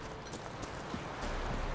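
In The Witcher 3, a horse trots along with a rapid, uneven clip-clop of hoofbeats under a faint game ambience, sounding moderately close and steady throughout.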